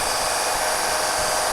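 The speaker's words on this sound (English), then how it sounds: "I prefer a heat gun I stole from my wife's scrapbooking kit. So this will blow hot air" A heat gun borrowed from a scrapbooking kit blows hot air to shrink tubing on a soldered XT30/XT60 connector, a steady loud broadband whoosh that holds evenly, then cuts off abruptly at the end.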